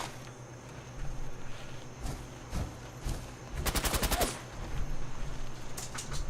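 Gunfire from the Fallout video game: scattered single shots, then a rapid automatic burst near the middle, moderately loud over a steady low background hum.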